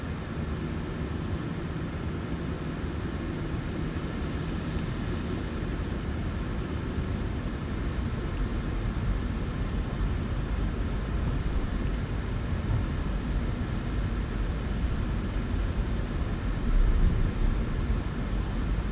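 A Transavia Boeing 737-800 in Flight Simulator rolls for takeoff on runway 10 at Faro, with a steady, even engine roar and broadband rumble holding at constant loudness throughout, with no talk.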